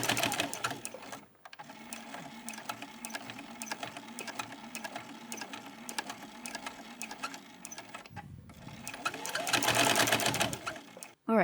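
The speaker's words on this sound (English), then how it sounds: "I'm just going to sew over the strap and then back stitch and then sew over it again." A sewing machine stitches over a tote bag strap with a steady, rapid mechanical whir, pausing briefly twice, then speeds up louder near the end.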